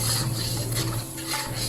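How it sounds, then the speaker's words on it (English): Spinach puree fries in oil over a medium flame for the Himachal dish sepu wadi, giving a close, steady sizzle broken by short scraping stirs of a spoon against the pan. "We are going to fry this spinach well in the oil, at least for about 5 to 8 minutes on medium flame."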